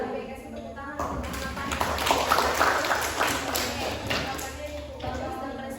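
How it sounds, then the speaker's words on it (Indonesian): Classroom applause for a student group after their chemistry presentation, uneven clapping from a small group of students with scattered thumps, rising in the middle and easing off, with faint voices in the room. "kasih tepuk tangan untuk"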